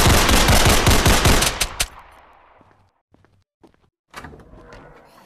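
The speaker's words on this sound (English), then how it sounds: "I can actually open this with my gun." Video game gunfire, a rapid automatic burst of loud, close shots for about two seconds, followed by quiet and a few scattered mechanical clicks and thuds.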